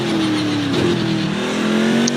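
Race car engine in the Project Cars 2 video game, loud and steady, its pitch sliding down and then climbing again as the gearbox shifts up, with no talk over it.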